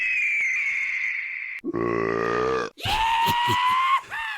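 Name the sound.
exaggerated burp sound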